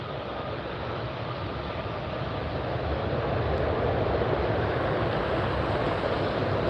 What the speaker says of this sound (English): So we've got the Air Tahiti Nui taxiing up.